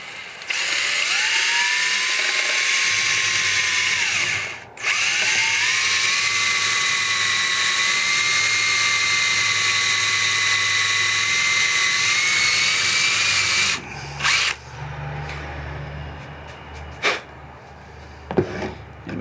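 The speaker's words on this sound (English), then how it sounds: "Clamp it and drill the next hole." A power drill bores a hole through a Jeep JK body panel during a pressure gauge installation, a loud high whine running steadily for about fourteen seconds with one brief stop, then short bursts and clicks.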